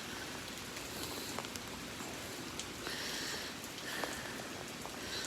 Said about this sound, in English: These are some giant drops of rain coming down